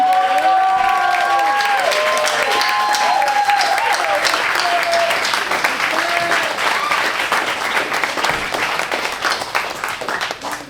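A live comedy show crowd at a studio venue claps and cheers loudly to welcome a performer, with whoops over dense applause that slowly thins out, while a voice talks over it.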